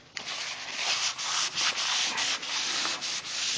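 A rag rubs briskly across a brake rotor after it has been sprayed with cleaner: a steady, close, scratchy swishing in back-and-forth strokes, with brief dips between passes and no talking.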